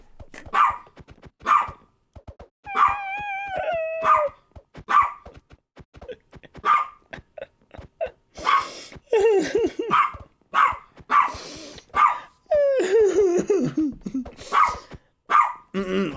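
A dog barking again and again in sharp, loud bursts, with whining, yelping tones between some barks.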